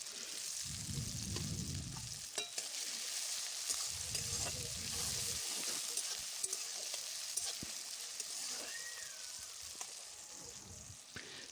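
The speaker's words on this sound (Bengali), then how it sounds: "টমেটোটা একটুখানি ভেজে নিচ্ছি। আর দিয়ে দিলাম কাঁচা লঙ্কা কুচি।" Tomato and chopped green chilli fry in a pan with a soft, steady sizzle, punctuated by occasional stirring scrapes and clicks, fairly quiet and close, with low thumps in between.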